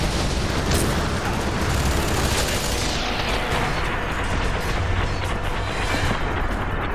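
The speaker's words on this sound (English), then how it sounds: "watch out for the rockets!" Rocket explosions and gunfire from Fear 3 co-op combat roar as a dense, loud, continuous barrage of blasts and rumble, with no clear breaks.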